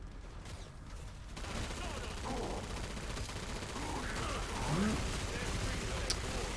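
Sustained, dense gunfire from the Killing Floor 2 video game: continuous rapid shooting and impacts that fill the whole stretch at loud, steady volume, with game sound effects layered throughout.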